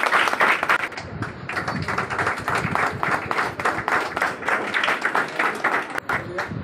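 A crowd at an award ceremony honouring environmentalists claps loudly and continuously, the dense patter of many hands holding strong from start to finish with some thumps and a voice blended underneath.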